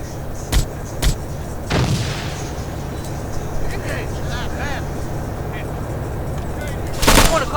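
Bursts of gunfire in ArmA: Cold War Rearmed crack out sharply, a couple of isolated shots early then a louder cluster near the end, over a steady engine-like rumble.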